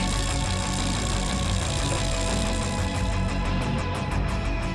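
Motorbike engine in an animated race, a steady loud droning roar with a fast buzzing rumble that holds at constant level throughout, filling the whole clip with no talk.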